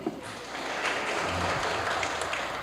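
An audience at the inauguration of a law institute lecture applauds to welcome a speaker, a dense even wash of clapping that builds in the first half second and holds steady.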